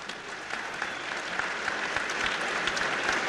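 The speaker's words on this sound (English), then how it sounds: "the audience started clapping after she said that she shot the woman in cold blood" An audience claps steadily throughout, a dense sustained round of applause from a crowd, fairly loud and continuous with no pauses or talk over it.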